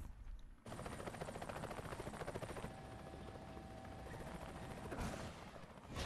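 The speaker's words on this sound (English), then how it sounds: "Now that we have a helicopter friend, we can get out of here." A Resident Evil 5 helicopter hovering close, its rotors throbbing in a rapid steady beat with a whining engine tone; the sound kicks in abruptly after a brief quiet start and stays loud.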